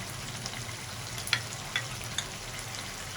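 Chicken karahi simmering with yogurt in a karahi pan gives a steady close sizzle and bubbling, with a few sharp spoon clinks against the metal around the middle, no talking.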